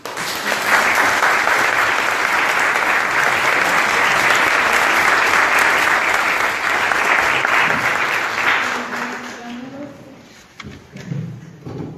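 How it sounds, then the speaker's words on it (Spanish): Warm applause from an audience at a university book presentation, a dense sustained wash of clapping for about nine seconds before it thins out and fades, followed by a few faint thumps. "Por favor, les damos un cálido aplauso."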